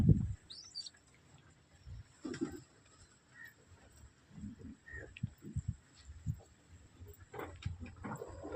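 Pigeons make faint, low coos and soft fluttering bursts at scattered intervals, with an occasional high chirp, against a quiet background.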